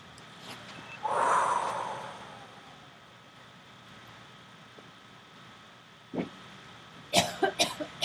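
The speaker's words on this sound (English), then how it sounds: "Everyone starts coughing." A group of people cough during a breathing exercise, with a longer bout near the start, then a single cough and a rapid cluster of sharp coughs toward the end, moderately loud in a quiet room.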